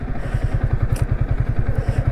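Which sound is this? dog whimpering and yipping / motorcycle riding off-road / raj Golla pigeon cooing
motorcycle riding off-road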